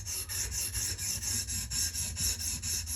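Knife blade being sharpened on a TSPROF Kadet Pro guided sharpener, a steady rhythmic rasping of stone strokes against steel, about a dozen even back-and-forth passes, close and continuous with no talking.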